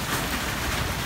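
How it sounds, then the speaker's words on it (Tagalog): Heavy rain pours during a typhoon with gusty wind, a dense, steady hiss of falling water that fills the whole moment with no break. "antay lang po natin na medyo tumila ng konti yung ulan bago tayo mag-proceed"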